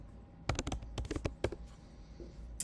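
Typing on a computer keyboard: a burst of quick, close key clacks in uneven clusters, then a pause and one last tap, with no voices.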